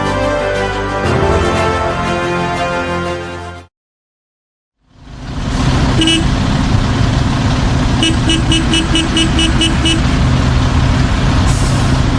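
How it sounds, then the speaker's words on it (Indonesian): Heavy road traffic rumbles steadily, with trucks and car horns tooting over the din after a brief silence. "Kesal dengan kemacetan, kesal dengan suara klakson"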